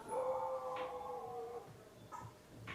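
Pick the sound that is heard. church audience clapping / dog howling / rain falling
dog howling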